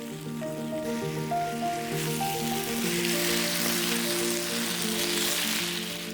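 Drunken noodles with basil being stir-fried in a hot pan: a steady bright sizzle grows louder and fuller under sustained background music, with no talking.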